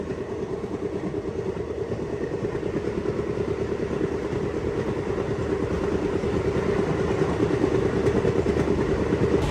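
A train runs through snowy country on the Srinagar to Banihal line in Kashmir, a steady loud rumble and rattle of the wagons that continues without a break and builds slightly.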